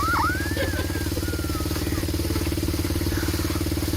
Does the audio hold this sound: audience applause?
no